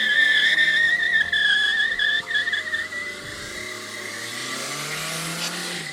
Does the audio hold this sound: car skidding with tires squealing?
yes